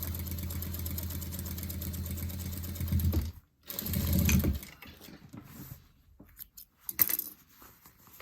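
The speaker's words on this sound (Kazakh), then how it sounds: "Енді дәл солай екінші қатарымызда тігісін жүргізіп шығамыз." A sewing machine runs a stitch line attaching tape to the hem of school trousers, whirring steadily and close, then stopping with short bursts and clicks of handling afterward.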